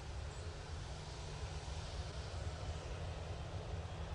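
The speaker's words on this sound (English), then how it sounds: "Ryanair going out next, using the 737 MAX 8 for this one." Ryanair Boeing 737 MAX 8 departing Manchester Airport, a steady, faint, distant jet engine rumble with broadband roar and no break across the few seconds.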